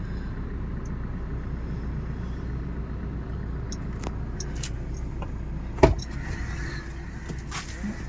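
A car's engine hums in a low, steady rumble as the vehicle gets ready to move, with a single brief clunk partway through and no voices.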